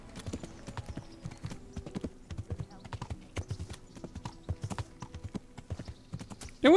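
Horse hooves clip-clop in a steady walking rhythm in the medieval role-playing video game Kingdom Come: Deliverance, close and clear, with a brief loud sound at the very end.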